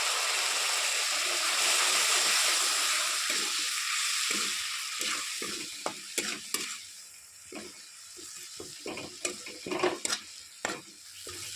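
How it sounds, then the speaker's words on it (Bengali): Spice masala sizzles and fries in a pan with a little water added, for an egg and potato curry. A steady hiss runs throughout, with repeated scraping stir strokes in the second half and no talk. "এখানে মশলাটা কিন্তু আমার ভালোভাবে কষানো হয়ে গেছে"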